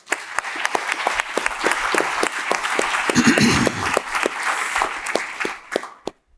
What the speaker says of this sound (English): So please give a round of applause for Linar.